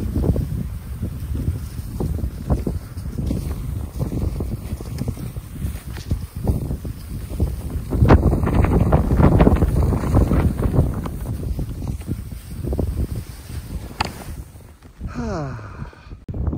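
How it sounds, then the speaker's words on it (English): Strong wind outdoors on a winter day with branches down, buffeting loudly in sustained gusts and rumbling across the microphone, with surges in intensity and faint scattered knocks. "It's really windy"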